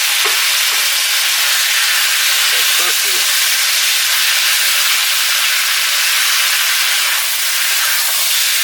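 Garlic and beef fry hard in a wok, a loud continuous sizzle and hiss that stays steady throughout, with a few faint clinks and scrapes of stirring underneath.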